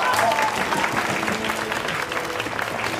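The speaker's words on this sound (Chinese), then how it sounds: "鼓掌啊！" Classmates applaud a new student in a school classroom, a dense continuous patter of clapping from a roomful of people, close and fairly loud throughout.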